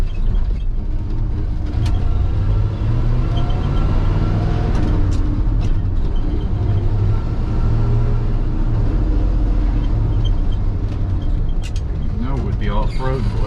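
A 1979 Ford F-350 truck that runs badly and needs tuning drives along the road with a steady low engine rumble and tire hum, while people talk over it inside the cab.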